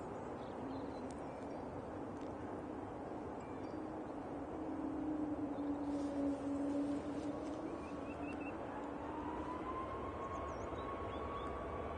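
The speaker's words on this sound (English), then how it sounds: "It's Ryanair's off to Barcelona, 737 MAX 8." A Ryanair Boeing 737 MAX 8 departs Manchester Airport for Barcelona, a faint, distant jet rumble with a rising engine tone that swells slightly midway, heard alone.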